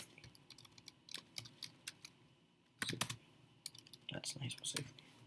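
Someone types code on a computer keyboard in a quiet room: soft, irregular clusters of key clicks with brief gaps and a denser flurry near the end.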